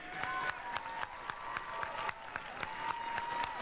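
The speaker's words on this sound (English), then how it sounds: "Another round of applause for this amazing band." Applause from a crowd at a high school football game for the Harlingen marching band, distant clapping under a steady held tone, with scattered sharp claps and a faint crowd murmur.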